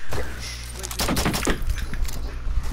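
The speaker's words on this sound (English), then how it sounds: "I'm gonna shoot this fuse thing." Several loud gunshots crack in Rainbow Six Siege as shots are fired at Fuze's device, surrounded by rumbling game noise and mixed with other players' voices.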